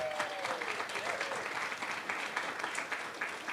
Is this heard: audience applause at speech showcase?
yes